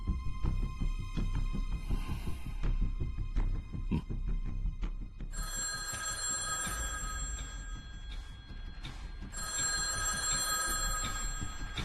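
A telephone rings repeatedly in a tense scene from a Telugu film, bright electronic bursts coming in steady pulses over a low rumbling music bed, with no talking.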